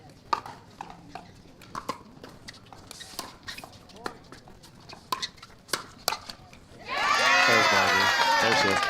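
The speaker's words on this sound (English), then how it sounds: "So a lot of their friends and family in the crowd, it sounds like." A partisan crowd at a beach volleyball match on a grandstand court bursts into loud, sustained cheering and shouting after several seconds of scattered sharp hits and murmuring.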